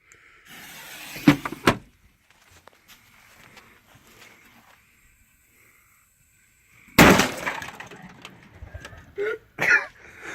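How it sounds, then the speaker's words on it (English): A Ford Ranger glovebox blown up: a few scattered clunks and a long near-silence, then a sudden sharp, loud blast followed by rattling bursts of debris close by. "he said we were going to blow it up"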